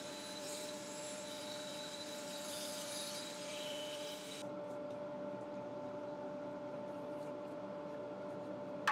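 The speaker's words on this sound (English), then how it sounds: "Just using the drill and the little brush." A drill-mounted abrasive brush cleaning grooves in a yew wood live-edge bowl gives a steady, close whirring hum with continuous rubbing that loses some of its higher hiss partway through.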